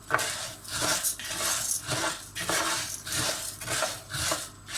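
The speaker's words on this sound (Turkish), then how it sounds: "Öncelikle ocağımızın altını yakıp tereyağımızı ve bir paket arpa şehriyeyi ilave edelim." Butter and orzo-shaped vermicelli going into a pot on a stovetop for meat and vermicelli pilaf, giving a steady run of close scraping and clinking from the pan with rustling pasta, no voices.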